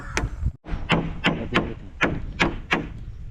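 A hammer strikes bamboo during the building of a bamboo hut in the Philippines, about eight sharp, fairly regular blows heard close and alone.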